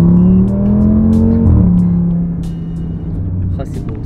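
An Audi RS3 accelerating in sport mode, its engine note rising steadily up close, then easing, with a person talking over it.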